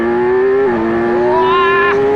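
A Kawasaki Z1100 motorcycle under full acceleration from just below its power band, the engine note loud and close, climbing in pitch, dipping briefly at a gear change, then rising again and dropping off sharply.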